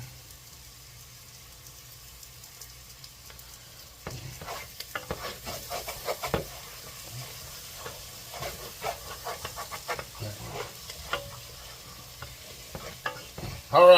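Onions sautéing in a pan for gumbo, a soft frying sizzle with scraping stirs that grow busier after a quiet start, ending in a brief louder clatter.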